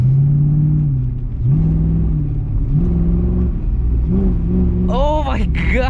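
A car engine fitted with a throttle controller turned up revs repeatedly, its low drone rising and falling in several distinct swells over a steady rumble, with a person speaking briefly near the end.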